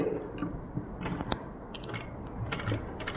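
A sewing machine stitching a new-style blouse sleeve design in orange thread runs with a fast, steady mechanical clatter, quiet and close, with small rhythmic clicks throughout and no talking.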